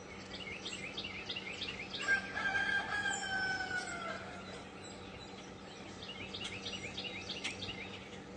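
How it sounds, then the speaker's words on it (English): Roosters crow repeatedly against a soft morning background, with other birds chirping and singing throughout; the calls sound moderately distant. "we got roosters crowing."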